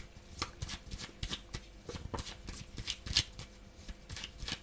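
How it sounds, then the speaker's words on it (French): Tarot cards handled and shuffled at close range, a steady run of soft riffling snaps and slaps, fairly quiet with no talk during it. "Je vais quand même aller recouvrir les cartes négatives,"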